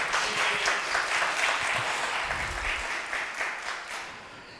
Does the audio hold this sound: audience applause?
yes